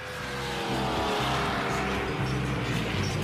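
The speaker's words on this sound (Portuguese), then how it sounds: "Aqui, o ronco dos motores só conta metade da história." Race car engine roaring on a racetrack at a driving school, a loud continuous high-revving drone with shifting pitch that fills the sound throughout, with no talking.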